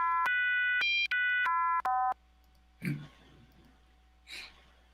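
A synthesized Kyma rendering of pi in a minor key plays a brief series of electronic tones stepping up then down for about two seconds, followed by quiet breaths or faint murmurs.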